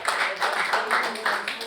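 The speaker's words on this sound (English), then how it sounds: "Round of applause." Seminar participants give a round of applause, a small group clapping in loose rhythmic pulses with talking mixed in.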